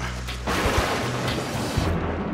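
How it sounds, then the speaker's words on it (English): A sudden burst of thunderstorm noise with rain hits loudly after a quiet start and rumbles on as a broad, rushing roar. "It's not safe up there in the middle of a thunderstorm"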